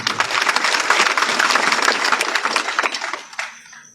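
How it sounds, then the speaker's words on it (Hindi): An audience at a Bagheli poetry recital breaks into loud, dense clapping that holds steady for about three seconds, then thins out and fades near the end. "मैं चाहूंगा जोरदार तालियों के लिए।"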